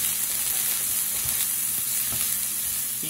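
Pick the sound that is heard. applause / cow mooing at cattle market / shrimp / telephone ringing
shrimp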